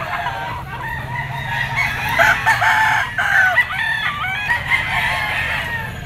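A blue-legged Super Brown Red bull stag rooster crows loudly and close, a drawn-out cock-a-doodle-doo broken into several rising and falling phrases.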